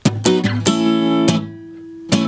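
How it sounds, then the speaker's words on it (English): Acoustic guitar strummed in a quick percussive pattern from a song, muted chucks alternating with ringing chords, then a sustained chord left to ring before one more muted strum. "make that change with a really cool kind of percussive style strumming pattern"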